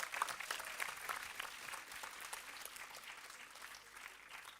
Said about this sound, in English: let's give a big round of applause to everybody present over here